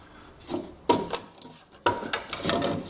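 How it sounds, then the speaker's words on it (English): A hand saw rasps through quarter-inch plywood while cutting a hole, in three short bursts of scratchy strokes separated by brief pauses, close and fairly quiet. "With a piece of 1/4 inch plywood, saw a hole so we have a loose fit for the flange"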